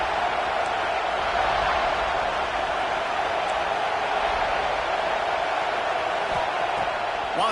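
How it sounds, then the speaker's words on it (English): A football stadium crowd roars in a continuous loud, steady wash of noise that fills the whole stretch without any break. "This crowd ready to make its presence known."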